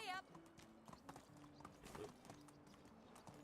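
Horse hooves clip-clop in Medieval Dynasty, a steady walking rhythm close by with a whinny near the start, over a low game ambience while someone talks.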